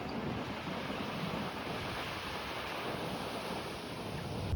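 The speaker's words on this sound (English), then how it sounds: "this is the Pacific Ocean." Steady roar of Pacific Ocean surf on the Washington coast washing continuously, broad and rushing, with some wind buffeting and no voices.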